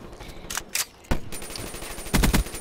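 Galil assault rifle fire in the video game Black Ops 3: several loud, sharp bursts of rapid shots with short gaps between them, ending in a clustered volley.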